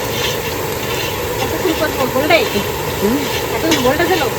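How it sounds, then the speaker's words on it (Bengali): Onions sizzle in hot oil, a steady hissing fry with occasional stirring scrapes, close and continuous, while a voice talks over it in the background. "তেল গরম হয়ে গেছে এখন পেঁয়াজগুলো দিয়ে দিচ্ছি"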